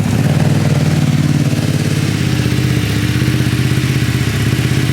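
A Ducati Streetfighter V2 with an Arrow exhaust and the baffle fitted runs close up in a steady, throbbing idle with a rapid lumpy pulse, and no one talks over it.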